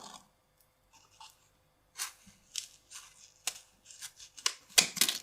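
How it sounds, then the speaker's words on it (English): Kitchen scissors snip through a nail buffer, giving a few quiet crisp cutting crunches that grow louder and denser toward the end, with near silence before. "So this is a buffer. Let's cut down the middle."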